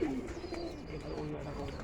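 Pigeons on a small pigeon farm coo softly and steadily, low and close, over a constant background hum.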